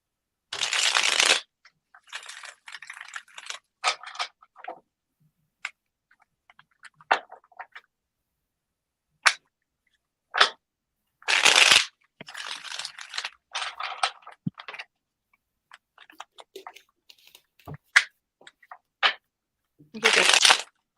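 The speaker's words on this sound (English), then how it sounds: "So I'm going to shuffle for you." Tarot cards are shuffled in several bursts of riffling and shuffling separated by pauses, with softer card handling and taps in between and a voice heard now and then.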